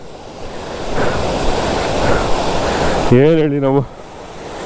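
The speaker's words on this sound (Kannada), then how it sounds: "ಇದು ಫಾಲ್ಸು ಆ್ಯಕ್ಚುಲಿ." Rushing water from a waterfall at Kote Betta, a steady broadband roar running throughout; people talk briefly over it near the end.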